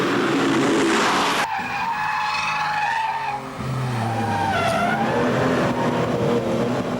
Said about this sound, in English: The lap on the Nürburgring with Stefan Roser.